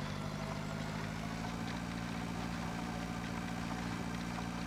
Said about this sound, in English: Got the tractor cranked up.